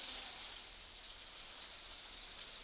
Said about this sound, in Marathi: रात्रीपासून मुसळधार पाऊस पुन्हा एकदा जोराने सुरू झालेला आहे